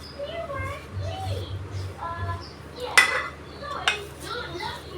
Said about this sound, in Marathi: हे पण चांगलं मिक्स करून घेऊया